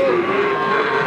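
A cow at the Margorejo Pati cattle market gives a long, loud, sustained moo, close and clear over a faint market background.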